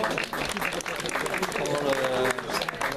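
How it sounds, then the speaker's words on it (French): Audience applause for five young award winners at a youth athletics podium ceremony, dense clapping under a loudspeaker voice that keeps talking throughout. "merci de les applaudir, tous les 5,"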